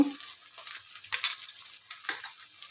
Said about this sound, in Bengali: পেঁয়াজ আদা রসুন সুন্দর ভাজা ভাজা সেন্ট বেরিয়ে গেছে